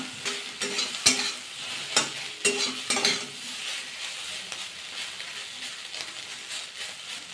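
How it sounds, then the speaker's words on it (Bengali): Soybean chunks frying in mustard oil in a wok, with steady sizzling throughout and sharp scraping clicks of a spoon stirring, the strokes clustering in the first few seconds and then thinning out. "কড়াতে সর্ষের তেল দিয়ে দেবো 2 চামচের মতো। সোয়াবিনগুলো ভাজা করে নেবো আগে।"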